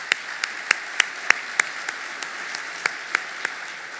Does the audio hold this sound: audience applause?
yes